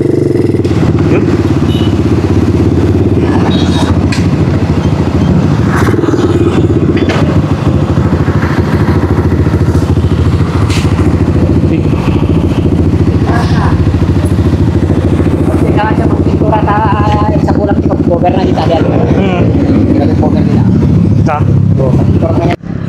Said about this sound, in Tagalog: Matapos nga natin subukan itong motor na ito